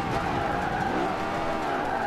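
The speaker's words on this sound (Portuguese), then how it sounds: "Esse carro saiu totalmente de lado." A Lexus LFA in Forza Motorsport 5 slides sideways, its engine note blending with a continuous tire squeal and skid, steady and moderately loud throughout.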